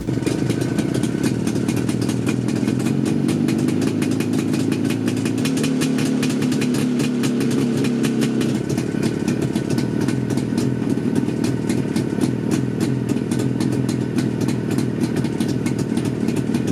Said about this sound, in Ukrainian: слухайте пробний запуск на новому карбюраторі